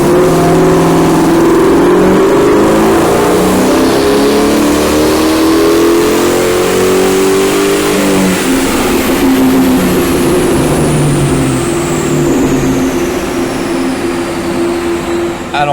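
A 1998 Ford Mustang GT on a dyno run, its engine roaring loud and close as it climbs steadily through the revs, shifts pitch midway and keeps pulling hard before easing off.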